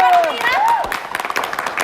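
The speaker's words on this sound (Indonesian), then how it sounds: "Yes, berikan tepuk tangan dulu." Audience applause at a talk on religious tolerance: a raised voice at first, then a burst of rhythmic clapping from the crowd rising after it.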